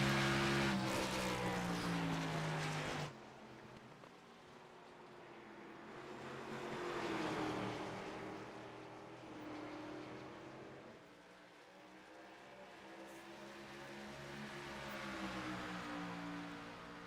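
Toyota Supra race cars roar around the New Hampshire oval in a NORA B Series night race, a loud engine drone with revving pitch sweeps as cars pass and fade, continuous and fairly near.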